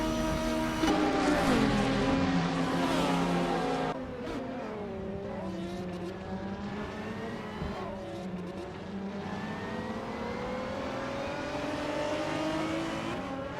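GTR race cars from a racing video game roar around Road Atlanta, with layered engine whine rising and falling through gear changes and cars passing close.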